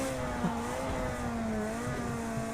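A Ferrari race car engine in the video game Project Cars 2 screams at high revs, steady and loud with a rising harmonic whine throughout, sounding like a simulated onboard engine.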